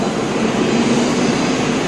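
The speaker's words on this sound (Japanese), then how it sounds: "12番線を列車が通過します。" A Shinkansen bullet train roars through Okutsugaru-Imabetsu station without stopping, a loud, steady rushing wall of sound with a faint humming tone running through it and no voices over it.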